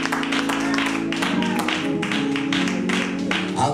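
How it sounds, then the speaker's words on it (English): A church congregation claps its hands for Pastor Davis at an installation service, a steady, dense run of overlapping claps that carries on with organ or music tones beneath and faint voices mixed in. "clap your hands for Pastor Davis"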